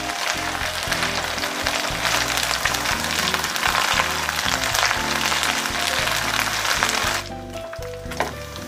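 Ikan teri (anchovies) frying in hot oil until dry and crisp, a dense, steady crackling sizzle that stays loud and close, then drops to a quieter simmer near the end.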